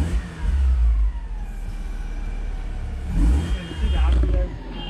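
A 2000 Alfa Romeo 146Ti with its 2.0 Twin Spark engine revs up quickly, its exhaust rising in a couple of loud, close surges over a steady low rumble.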